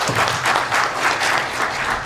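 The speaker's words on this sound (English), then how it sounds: "So let us welcome him with a round of applause." Audience at a Stanford University summit on the Ethiopian political crisis applauds a guest professor, steady dense clapping from a sizeable crowd in a hall, heard briefly and alone.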